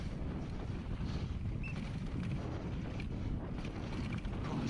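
Wind roars steadily across the microphone during a downhill mountain bike race in Portugal, a loud, continuous low buffeting with no talk.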